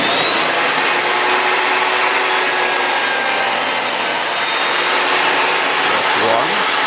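A saw cuts bevels along the edges of scrap wood in a small woodworking project, a loud continuous rasping whine held steady for about seven seconds with no talking.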